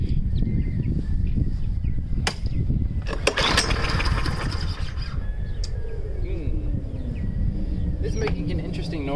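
A Yard Machine Powermore mower's small engine runs steadily up close, with a scraping, squealing rub from the wheel or disc area mixed into the drone.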